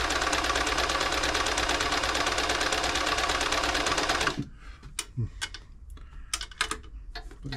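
A New Home 641 sewing machine stitches a buttonhole with a fast, steady mechanical chatter for about four seconds, then stops, leaving scattered clicks and handling knocks.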